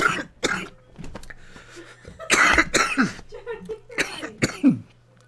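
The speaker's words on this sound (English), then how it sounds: "I've just coughed" A man's coughing fit while he watches a Manchester United versus Tottenham match, with several loud, close, harsh coughs in irregular bursts separated by short gasping breaths and throat clearing.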